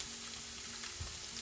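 Vegan mac and cheese frying in a pan on medium heat, a soft, continuous sizzle heard close up for a brief moment.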